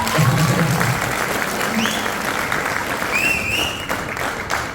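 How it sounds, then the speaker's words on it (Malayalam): An audience at a Malayalam film event applauds, a dense, steady wash of clapping from a crowd that fades slightly toward the end, with faint voices underneath. "അജീഷ് ഒരു കൈയടി പ്ലീസ്."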